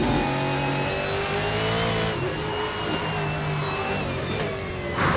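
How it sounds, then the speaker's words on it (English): Ford GT1 race car in a racing video game at Mid Ohio, engine revving hard and steady as the rear tyres spin, loud and continuous with no pauses. "Spinning the rear tyres over the top though."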